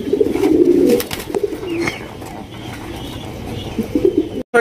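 A pair of German Shield pigeons kept on a farm coo close by in low, throaty rolling bursts, strongest early on and again near the end, with no talking over them.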